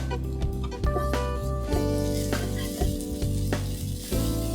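Onions with ginger garlic paste fry in a pan for a Punjabi chole dish, a steady close sizzle with occasional stirring scrapes and clinks, no voices.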